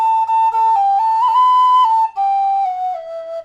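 A D whistle plays a sustained melody of high notes, bright and loud, gliding between pitches with a brief break partway through; no voices.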